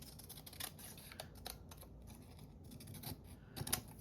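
Scissors make quiet snipping cuts as they trim paper from a patterned security envelope. The cuts come as a handful of short, crisp clicks spaced irregularly over a faint background, with no talking.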